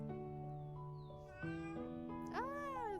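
A cat from the video game Little Witch in the Woods meows repeatedly and close up. The calls are drawn-out and tonal, and the last one rises into a sharper, wavering cry.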